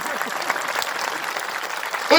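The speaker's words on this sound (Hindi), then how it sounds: "जोरदार ताली बजा।" A crowd claps at an open-air political rally in Ghazipur, a dense, steady patter of many hands sustained throughout, with a sharp louder burst at the very end.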